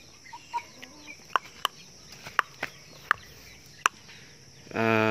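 Backyard chickens, including Rhode Island and Asil breeds, cluck in short, scattered bursts at a moderate distance, with quiet pauses between calls and a louder rooster-like call at the end.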